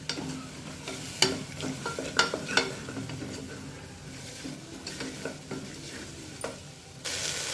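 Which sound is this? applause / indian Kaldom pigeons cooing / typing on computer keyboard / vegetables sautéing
vegetables sautéing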